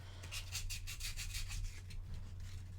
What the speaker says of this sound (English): Just sanding down all of the modification.